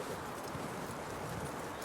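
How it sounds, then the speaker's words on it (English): Horse hooves clip-clopping in Red Dead Redemption 2, a quick steady run of soft muffled hoof beats, faint and brief, with game sounds around them. "That looks like a decent horse."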